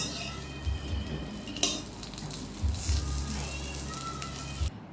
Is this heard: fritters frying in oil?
yes